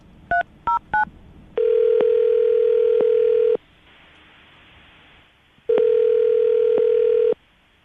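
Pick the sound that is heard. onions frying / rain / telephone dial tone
telephone dial tone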